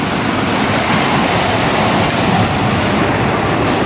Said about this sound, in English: Here comes Caleb down the log flume.